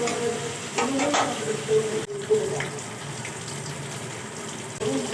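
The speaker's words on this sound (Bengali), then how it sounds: "ভেজে নিয়ে আমি গরম জলে দিয়ে দিচ্ছি, উষ্ণ গরম জলে" Fried paneer going into warm water in an Indian kitchen, with soft splashing, clinks and low sizzling over a steady background hiss, heard close without talk.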